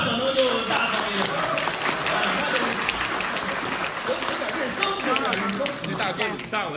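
A theater audience at a Deyunshe crosstalk comedy show at Sanqingyuan claps in a burst of applause, mixed with performers talking over the clapping.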